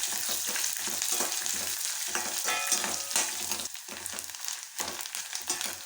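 Ten cloves of garlic and a piece of ginger fry in a pan with grated coconut, a dense, steady sizzle with crackling pops and occasional stirring scrapes, close and continuous.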